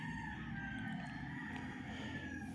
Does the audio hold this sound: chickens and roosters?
yes